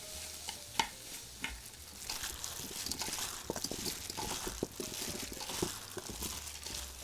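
Garlic sizzling and frying in a pan while radish kimchi is made, with steady crackling broken by occasional stirring scrapes and clinks, close and moderately loud with no voices.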